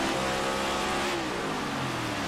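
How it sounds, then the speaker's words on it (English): A race car engine roars at high revs during an ICON Cup race at Nashville, loud and continuous with a falling pitch as the car is clutched into a turn. "And you see Hoppy clutches the car into turn 3, lets the Talent go. You can see and hear it."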